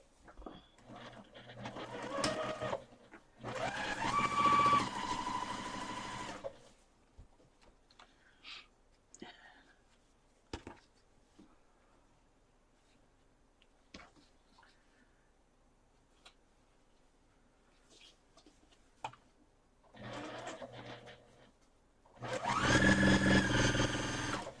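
A sewing machine stitches a Christmas quilt in several close, steady whirring runs, two near the start and two near the end, with a long quiet stretch between holding only faint clicks and handling noises.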